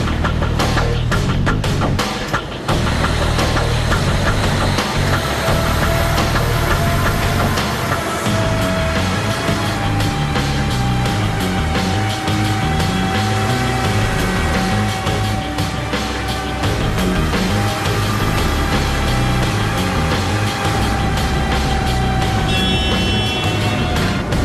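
A truck runs on a roller bench during a maximum-speed test, making a loud, continuous roar that holds steady from start to finish.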